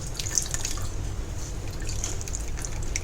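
Water squeezed from boiled kuda flowers is discarded, heard as a few light drips and splashes over a steady watery hiss, close and fairly loud.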